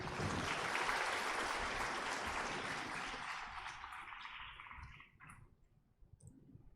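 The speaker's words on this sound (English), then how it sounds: "Big round of applause for all of them" Dense audience applause at a university undergraduate orientation programme, loud and steady for several seconds before thinning out and fading toward the end.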